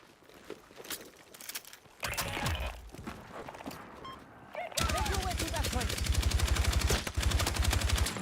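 Rapid automatic gunfire from PUBG battle royale play, a steady close burst of shots dominating the second half after scattered earlier noises, with voices talking over the action.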